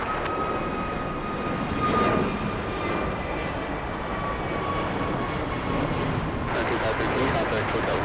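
An aircraft lands at LAX airport, its jet engine roaring steadily in the distance for several seconds, with a stronger whooshing surge near the end, under faint background noise.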